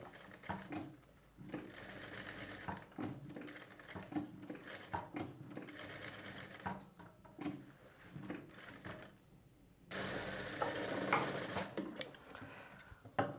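Sewing machine stitching a cut-work design into the back neck of a blouse, running in short bursts with pauses between them and a louder, steadier run near the end, with no voices.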